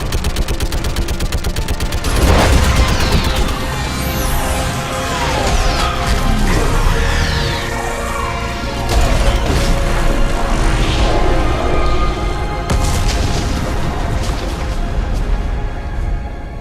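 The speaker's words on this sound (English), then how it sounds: "I need an orbital strike. We're clear. Fire at will." Orbital strike weapon fire in the Mass Effect video game: a loud, sustained barrage of booming blasts, crashes and rumbling debris that rolls on without pause.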